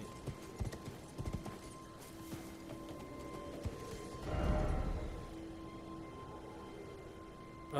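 Horse hooves clip-clopping in the Elden Ring video game, a steady rhythmic trot of a summoned mount over game ambience, with a brief whinny and a louder surge of movement midway.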